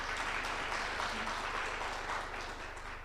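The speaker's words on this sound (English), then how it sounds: "Maybe we give ourselves a round of applause." Audience applause at a Namibian event on repatriating human remains from South Africa, a dense steady wash of clapping from a sizeable crowd that fades slightly toward the end, with a low hum underneath.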